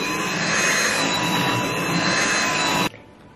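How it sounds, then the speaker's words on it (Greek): A Dyson V8 Animal cordless stick vacuum cleaner whirs loudly and steadily at close range, a dense motor whine, then cuts off abruptly near the end, leaving quiet room tone. "θα με ρωτήσετε για τη σκούπα, είναι η Dyson, η V8, η Animal"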